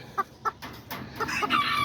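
Silkie chickens clucking in short bursts, a few separate calls and then a busier stretch of overlapping clucks nearby, with farmyard background noise.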